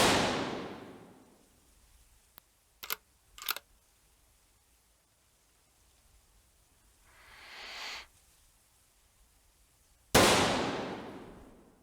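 Gunshots in the VR hunting game Virtual Hunter: a loud, sharp report opens the clip and another cracks near the end, each with a long fading tail, and a few brief mechanical clicks fall between them.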